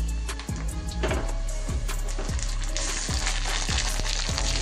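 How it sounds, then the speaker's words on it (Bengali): Tomato goes into a pan of onions already fried deep red for mung dal khichuri, bringing loud, close sizzling and frying hiss, with repeated rhythmic scrapes and knocks of a stirring spatula. "এই যে পেঁয়াজটা আমার লাল লাল করে ভাজা হয়ে গেছে, এবার আমি টমেটোটা দিয়ে দেবো।"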